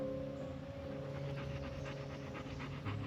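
A Maremma sheepdog pants steadily and fairly close, quick rhythmic breaths repeating over a quiet background with a faint steady hum.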